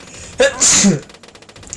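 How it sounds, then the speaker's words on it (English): A single sharp, close sneeze with a quick intake of breath before it, followed by faint quiet. "I feel like I'm gonna sneeze again."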